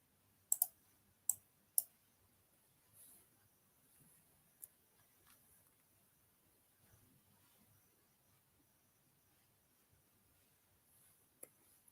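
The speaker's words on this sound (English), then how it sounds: "I'll type it." Three sharp clicks of keyboard typing, close and quiet, followed by faint scattered taps and low room noise, with no talking.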